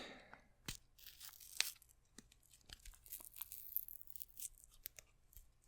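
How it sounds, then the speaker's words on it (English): Soft paper being torn in short, slow strips, with quiet crinkles and pauses between tears, close and gentle. "paper tearing sound is actually really nice too."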